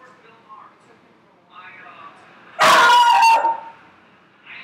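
A household dog barks in the background, a loud burst of several rapid barks about midway through, with quieter murmuring room sound before and after.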